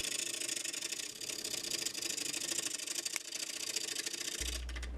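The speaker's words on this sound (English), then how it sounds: "I'm going at it with the 1/2-inch bowl gouge" A 1/2-inch bowl gouge cuts oak on a spinning wood lathe, giving a steady, dense scraping hiss over a motor drone that holds level throughout with no voices.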